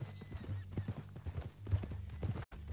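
Horse hooves clip-clop steadily over uneven ground in the Western video game Red Dead Redemption 2, a close and continuous rhythm of hoofbeats with a brief gap near the end.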